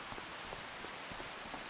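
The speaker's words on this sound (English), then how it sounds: "We do also have quite a lot of rain." Rain in Farming Simulator 25 falls as a steady, soft hiss with scattered drop patter, alone and fairly quiet.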